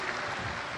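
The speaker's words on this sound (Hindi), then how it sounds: "जोरदार ताली बजाकर स्वागत, वंदन, अभिनंदन" An audience at a religious discourse gathering claps loudly in welcome, a dense continuous wash of applause throughout.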